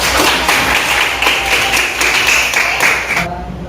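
Students clap together in a classroom, producing a dense, loud burst of rhythmic hand claps that stops abruptly near the end.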